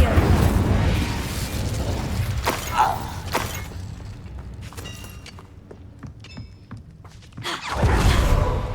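Incendio fire spells burst during combat in the video game Hogwarts Legacy, loud blasts at the start and again near the end, with sharp cracks and quieter magical clatter between them.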